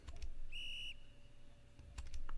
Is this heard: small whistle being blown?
yes